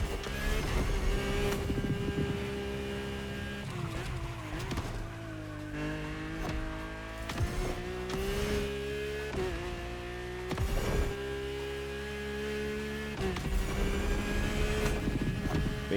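A Porsche races in the video game The Crew Motorfest, its engine a steady, droning whine that rises and falls in pitch as it shifts gears, with occasional brief bursts of noise.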